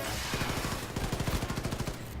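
Rapid automatic gunfire in the first-person shooter Wolfenstein 2, a fast steady burst of shots over a busy game soundtrack, loud and continuous for about two seconds.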